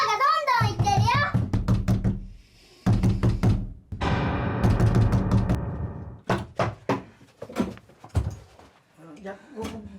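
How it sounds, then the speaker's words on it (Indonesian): Repeated thumping knocks on a door come in hard bursts of several blows each, loud and close, while someone speaks in between. "ドアがどんどんいってるよ。"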